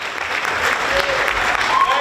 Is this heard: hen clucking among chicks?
no